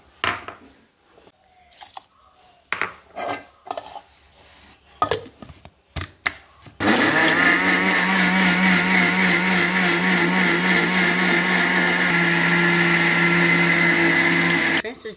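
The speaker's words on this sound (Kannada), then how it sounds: "ಎಳ್ಳನ್ನು ನೈಸ್ ಹರ್ಕೊಂಡ್ರು ನೋಡಿ ಮಿಕ್ಸಿಗೆ ಹಾಕೊಂತೈತೆ" Brief talk and clatter, then a mixer grinder starts grinding white sesame seeds and runs loud and steady, its motor whirring and grinding continuously to the end.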